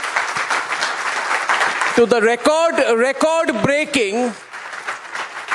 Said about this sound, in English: I'd like to warmly welcome with as loud and ringing a loud round of applause as possible